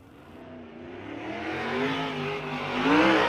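A USAC sprint car at the Lawrenceburg racetrack revs up through rising harmonic engine tones, growing louder as it accelerates nearby, with no talk over it.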